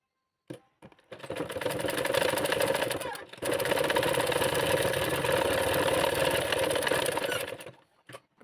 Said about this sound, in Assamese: আকৌ এবাৰ এনেকৈ মুটুকাই চিলাই দিছোঁ।